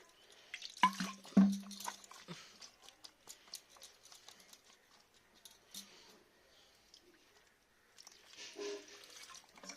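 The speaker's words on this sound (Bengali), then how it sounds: "এবার একটু হাতটা আমি ধুয়ে নেব ভালো করে।" Hands are washed with water while preparing a spring onion, potato and prawn dish: faint, intermittent trickling and light splashing with soft drips, quiet and close.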